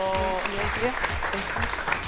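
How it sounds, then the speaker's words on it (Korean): A studio audience claps to welcome two guests on a Korean science talk programme. The applause is steady and moderately loud, with tonal music or voices layered over it. "오늘의 주인공 두 분 박수로 환영해 주시기 바랍니다."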